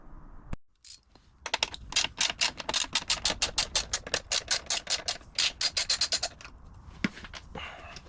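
A ratchet wrench backing out a small bolt on a Harley Davidson Road King Special, quick rhythmic clicking bursts close up, pausing briefly then resuming, with no talk.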